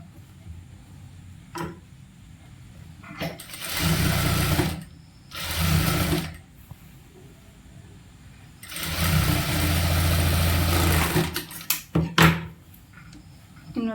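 A sewing machine stitches a churidar sleeve in several bursts, two short runs followed by a longer steady one, with clicks and handling noises in the pauses between, close and clear.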